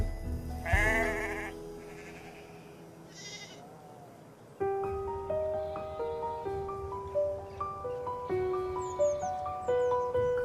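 Sheep bleat under a tree in a quarry-side countryside field, loud nearby calls at first, with a melodic tone pattern and light ambient sounds continuing afterward.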